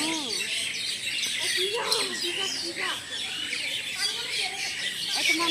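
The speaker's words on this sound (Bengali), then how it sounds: "শুধু আপনারা পাখির আওয়াজগুলো শুনেন।" Birds chirp and tweet in quick, repeated calls around a resort in the evening, heard at a moderate distance over a soft background hum with faint voices.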